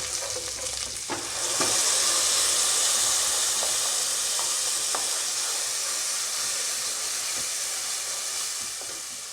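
Ground chili masala paste hits hot oil in a pan for an aloo matar kurma, bursting into a loud, steady sizzle and frying hiss with faint stirring scrapes, and nobody talks.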